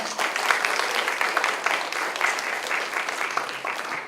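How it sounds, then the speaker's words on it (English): An audience at a university international student event claps in a steady, moderately loud round of applause for about four seconds, many hands blending into a continuous patter with no speech over it. "let's give up another big round of applause for the ISSS staff."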